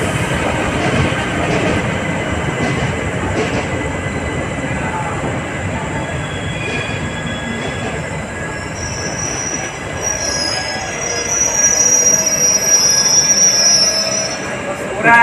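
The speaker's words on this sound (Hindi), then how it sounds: "वहाँ से ये ट्रेन चलती है।" An electric train hauled by a WAP 4 locomotive passes at night at Phaphamau Junction, its wheels squealing loudly over a steady rolling rumble with faint clickety-clack, continuous and close throughout.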